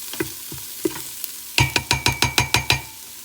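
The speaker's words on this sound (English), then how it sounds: "Stir it up." Onions and garlic with thyme, oregano and cumin being stirred in an Instant Pot: a few soft scrapes, then a quick run of eight sharp, evenly spaced utensil clacks against the metal pot, close and clear.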